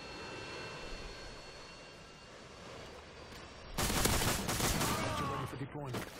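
Harrier jet airstrike in the video game Modern Warfare 2: steady engine roar for the first half, then a sudden loud burst of explosions and gunfire that continues to the end.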